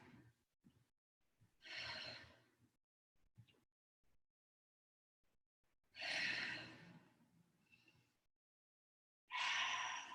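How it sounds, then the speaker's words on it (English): Deep breathing during a yoga class, three long, audible inhale-exhale sighs spaced a few seconds apart, close and fairly loud against a quiet room. "Take a couple of deep breaths here."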